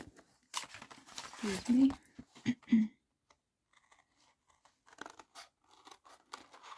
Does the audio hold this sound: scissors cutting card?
yes